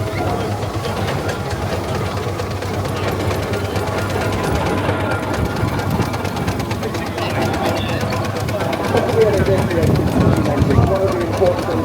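A small half-size steam engine chugs and rattles steadily nearby at a steam and country fair, its mechanical clatter continuous, with people talking over it.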